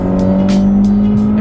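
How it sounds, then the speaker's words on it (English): Engine of a 2017 Honda Civic Hatchback revving steadily and loudly, a sustained drone with faint rising surges on top and no talk. "And what you're hearing there is the engine."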